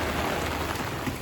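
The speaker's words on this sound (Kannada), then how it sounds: "ಅಯ್ಯೋ ನೋಡಿ ಶಾಕ್ ಹೊಡೆದೋಗ್ತಾಗಿದೆ ಅಷ್ಟು ಮಳೆ" Heavy rain pours steadily and loudly, a dense continuous hiss of water striking surfaces up close with no talk over it.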